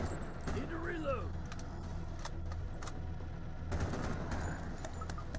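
Rapid bursts of video game gunfire crackle in short clusters, with a few separate rattling volleys at moderate distance, mixed with voices.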